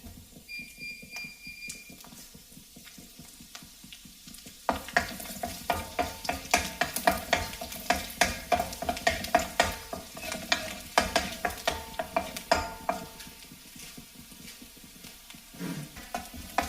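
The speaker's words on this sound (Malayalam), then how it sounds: "ഇതിലേക്ക് ആദ്യമേ ഈ വെളുത്തുള്ളി അരിഞ്ഞത് ചേർക്കാം" Chopped garlic dropped into hot sunflower oil, a sudden sizzle that breaks out partway through and continues with rhythmic stirring scrapes and clicks, close and fairly quiet.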